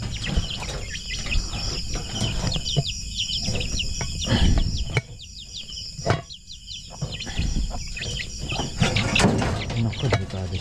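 Chickens cluck and chirp in quick repeated bursts against a noisy outdoor background, with occasional sharp knocks, close and moderately loud.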